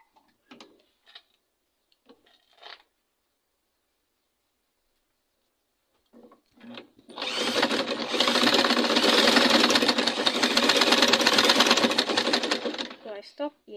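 A sewing machine stitches fabric for a center ruffle turban in a steady, continuous whirring run of several seconds, preceded by a few faint clicks and handling noises.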